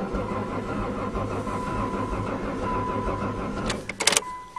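A 2010 Caravan's engine cranks on a cold start: a steady, loud mechanical churn that holds for several seconds without catching, ending in a few sharp clicks and knocks near the end.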